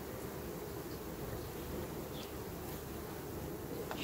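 Continuous low buzzing of many bees, a steady droning hum at moderate distance with no speech.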